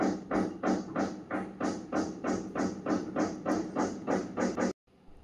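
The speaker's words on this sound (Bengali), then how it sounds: "আর এখানে দিব 1 চামচ জিরে গুঁড়ো দিয়ে ভালো করে আমি মশলাটা কষিয়ে নিব।" Turmeric and cumin spice paste is worked in a hot pan with quick, regular scraping strokes, about three per second, close and loud, stopping abruptly near the end.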